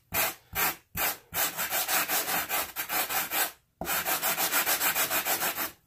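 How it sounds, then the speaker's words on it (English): A heavy-coarse sponge sander scrubs a tabletop terrain board in quick back-and-forth strokes, loud and rhythmic, with a few brief pauses between bursts. "what I'm using here is a coarse sponge sander, heavy coarse"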